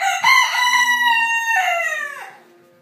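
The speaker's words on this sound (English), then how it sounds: "my silky rooster is crowing" Silkie rooster crowing indoors at 4 AM, one full loud harmonic crow held close to the listener, trailing off in a drawn-out falling tail.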